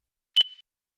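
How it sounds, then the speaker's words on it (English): A LiftMaster LMSC1000 RFID reader gives one short, clear electronic beep as it reads a tag, followed by silence. "By default, the LMSC1000 will beep when it reads an RFID tag."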